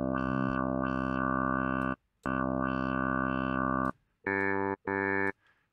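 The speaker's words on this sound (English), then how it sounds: "you can hear what happens when we're playing with the cutoff and the bandwidth" A sustained NI Massive synth tone whose timbre sweeps and wobbles as a band-pass filter's cutoff and bandwidth open and close, then two short buzzy stabs. No voices.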